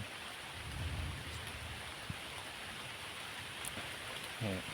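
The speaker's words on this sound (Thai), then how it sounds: "ทางบ้านพี่ซีเป็นไง ฝนตกแบบนี้หรือเปล่า" Faint, steady rain hiss with a few soft scattered taps, and a brief voice-like murmur near the end.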